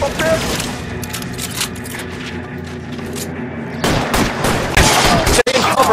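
Rapid bursts of gunfire crack through a shootout in the video game L.A. Noire, loud and dense, with a shouting voice over the shots and a sharp slam-like bang late on.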